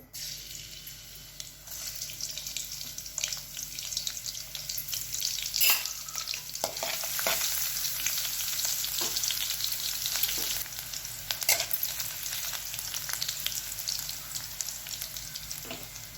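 Garlic frying in hot oil for a dill leaf (shepu) vegetable dish, a steady close sizzle and crackle with scattered spatula clicks throughout, no talk.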